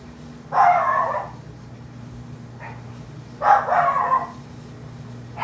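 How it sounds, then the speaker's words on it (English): Dogs bark in two short bursts a few seconds apart, somewhat distant, over a steady low hum. "my dogs are barking"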